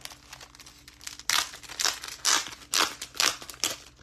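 Plastic packaging around a 12-pack of Season of Elegance specialty paper is crinkled and torn open close up, in several sharp, loud bursts of rustling after a quieter start.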